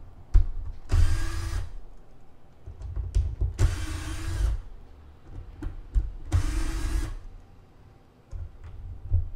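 Electric driver backing out Torx 25 fasteners on an Audi Q5 3.0 supercharged airbox, three whirring bursts of a couple of seconds each separated by pauses and small clicks, close and fairly loud.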